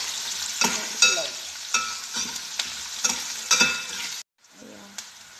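Egg sizzling and frying in a pan after onions and potatoes were cooked, a steady close crackle with intermittent stirring scrapes, breaking off to near silence briefly before resuming faintly.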